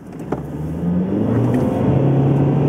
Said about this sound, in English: And I'm going to do a 0 to 40 here.